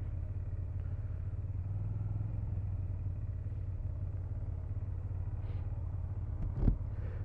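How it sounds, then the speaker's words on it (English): Steady street traffic rumbles from a moderate distance as a continuous low drone of passing engines, with one short sharp clatter near the end and no speech. "Traffic is a bitch here."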